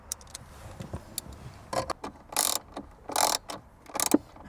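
Small 10mm screws being driven back into an interior panel of a Toyota Tacoma during an amplifier install, heard as soft ratcheting clicks and brief bursts of scraping, close and fairly quiet, with no talking.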